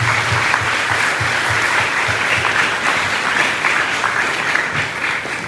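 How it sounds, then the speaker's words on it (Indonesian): An audience at a school talk show at SMA Negeri 2 Denpasar claps continuously, a dense, even, loud applause that holds steady across the whole stretch with no voices standing out. "tepuk tangan untuk kita semua"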